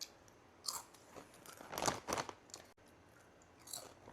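Crunching and chewing of Indian potato chips up close, a few sharp crisp bites with a dense burst of crunches in the middle, then quieter chewing.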